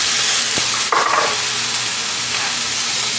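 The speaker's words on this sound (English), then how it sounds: "And let these onions start cooking." Onions cooking in a pan give a steady, moderate sizzle of frying, with a brief stirring scrape near the start and no talking.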